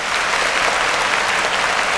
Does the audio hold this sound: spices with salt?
no